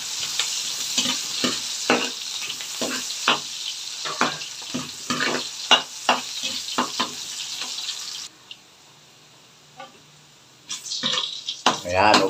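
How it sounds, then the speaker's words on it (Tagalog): Onion and garlic sautéing in a pan for ground-meat giniling, with loud sizzling and repeated clattering stirs for about eight seconds, then a quieter sizzle and a burst of stirring at the end, with some talk nearby. "Bisayin natin yung ating sibuyas,"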